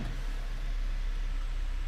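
A Chevrolet Equinox with 38,000 miles idles steadily after starting, a low, even engine rumble heard from inside the cabin, constant throughout with no talking.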